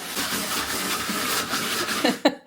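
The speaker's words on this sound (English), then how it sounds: "This is the 3rd day of sanding." Steady broadband scraping and rasping of hand sanding in a hallway, continuous and fairly loud, ending with a few sharp knocks and shuffles.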